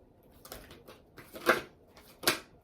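A deck of oracle cards being shuffled during a spiritual card reading, heard as a few soft, separate riffling bursts in a quiet room with no talking.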